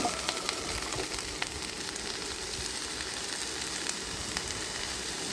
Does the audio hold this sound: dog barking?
no